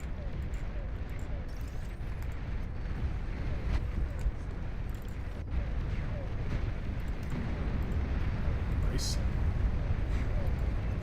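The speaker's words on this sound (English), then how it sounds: "Solid nuclear bombing." Nuclear bombs strike during a match of the strategy game Beyond All Reason, making a continuous deep rumble of explosions with scattered sharper blasts, while someone talks over the top.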